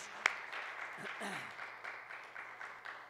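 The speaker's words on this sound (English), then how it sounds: "Give yourselves a round of applause." Faint audience applause at a temple bibliodrama session: soft, scattered clapping forms a low wash, with a sharp clap near the start and murmuring voices mixed in.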